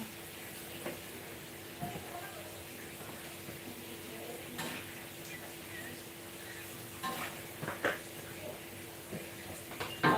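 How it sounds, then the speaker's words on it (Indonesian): Crispy intestines fry in a pan at home during evening family cooking, a steady sizzle with occasional stirring clicks and utensil knocks, while people talk over it. "Goreng usus crispy."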